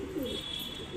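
Quiet pigeon coos, from a high-flying bird, drift in low gentle phrases at the start and end of a brief moment, near and unaccompanied by speech.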